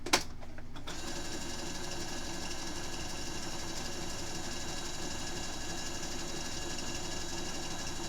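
A sewing machine stitches a glow-in-the-dark Ghostbusters quilt, its fast steady whirring motor and needle chatter running continuously at close range after a brief opening pause.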